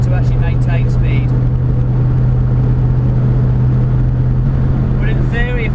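A Ford Capri powered by a tuned 4.6 Rover V8 cruises under light throttle with a steady, deep engine drone inside the cabin, and voices speak over it at the start and end.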